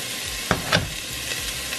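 Chopped onion fries in hot oil in a pan, a close, steady crackling sizzle with a couple of brief louder spatters as it is stirred.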